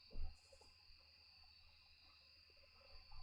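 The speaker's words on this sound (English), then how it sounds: "the crickets are making things a bit noisier than they were underneath the mall" Crickets chirp steadily in a game environment in Pagan: Autogeny, a continuous high-pitched trill holding a constant level with a low rumble beneath and a few soft thumps, no voices.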